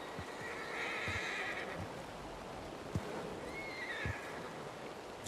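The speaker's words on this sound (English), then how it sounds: "Boy, the horse sounds unhappy." A horse in the video game Red Dead Redemption 2 whinnies twice, a long neigh near the start and another later, with faint hoof clip-clops under an outdoor ambient bed and no talking.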